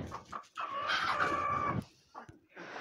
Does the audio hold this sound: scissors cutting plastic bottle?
no